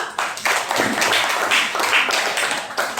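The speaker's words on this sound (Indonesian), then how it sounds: "Tepuk tangan dulu untuk Sri." A class of students claps for a classmate named Sri, a lively burst of individual hand claps in an uneven rhythm, fairly close and clear with no talking over it.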